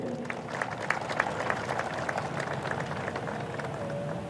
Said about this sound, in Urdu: ان سب کے لیے تالیاں آپ کی ضرور ہونی چاہیے